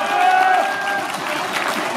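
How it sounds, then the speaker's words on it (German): Crowd applause at an Austrian cattle show celebrating a winning cow, a broad, loud wash of clapping from the gathered spectators with a faint tone and some background voices mixed in. "Gratulation und einen kräftigen Applaus,"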